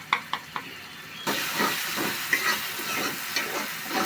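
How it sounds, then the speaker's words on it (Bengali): Cumin paste and ginger frying in a pan for an omelette curry, a few sharp stirring clicks giving way to a steady, close sizzle with intermittent crackles and spoon scrapes. "আদা রসুনের সাথে আমি ভাজা ভাজা করবো ভালো করে।"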